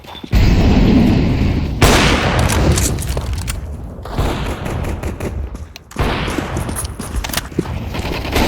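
Grenade blasts and gunfire in Counter-Strike 2: a loud close boom, then a long rumbling wash of explosion and shooting, with a second heavy burst later, no talking.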